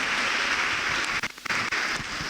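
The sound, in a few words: loud applause by congregation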